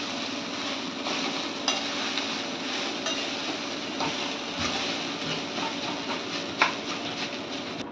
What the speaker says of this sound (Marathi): आता साबुदाणा टाकू. आता मिक्स करून घेऊया.